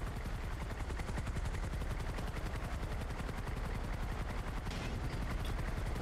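Helicopter in a video game, a rapid rhythmic rotor chop that pulses steadily throughout at moderate loudness, with a brief burst of noise near the end and no talking.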